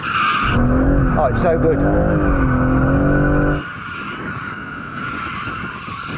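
BMW M3 AWD in two-wheel-drive mode doing a burnout, tyres squealing loudly and steadily for several seconds over the engine roar, then easing off to a lower rumble, with someone speaking over it.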